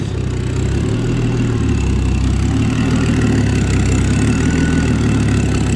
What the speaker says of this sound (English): Do have a little dump pipe leak there, which I need to fix at some point.